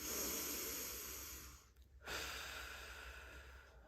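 A slow inhale through the nose as part of diaphragmatic breathing practice, soft breathy hiss heard close up, a brief pause, then the airflow resumes faintly.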